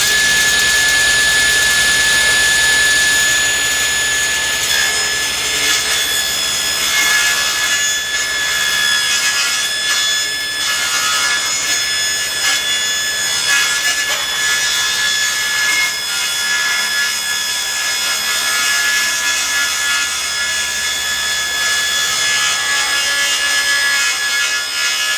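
A saw cuts box joints along a 6½-foot board clamped in a jig to a sheet of plywood, a continuous loud whine with grinding rasps running steadily through the whole stretch.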